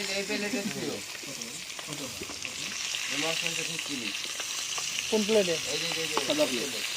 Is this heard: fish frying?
yes